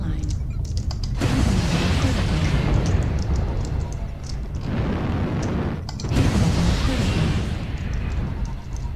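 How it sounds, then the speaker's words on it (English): Artillery strikes pound the ground in the mech combat game MechWarrior, as a Shadowcat armed with PPCs fights. Loud, heavy explosions roll in long rumbling waves, several overlapping impacts with brief gaps between them. "Artillery strike online."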